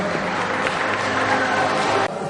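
Audience applause at a children's beauty pageant final, steady dense clapping with crowd noise throughout, briefly dipping near the end.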